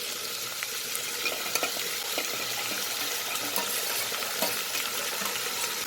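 Ginger, garlic and tomato fry in a pan for butter chicken, with a steady bright sizzle and occasional stirring scrapes, heard alone and close throughout.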